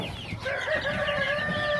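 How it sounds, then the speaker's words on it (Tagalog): Chickens on a farm in Duero, Bohol, cluck and squawk up close in a continuous, slightly rising chatter without pause. "Mga manok na mga katupay."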